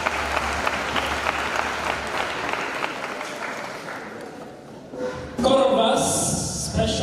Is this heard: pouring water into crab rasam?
no